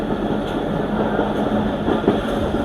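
Marvi Express passenger train rolling along rails through farmland, a steady close rumble and rattle of the carriage heard from inside, continuous without talk.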